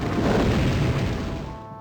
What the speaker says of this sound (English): the magic reacts, but now the explosion only rips flesh from his bones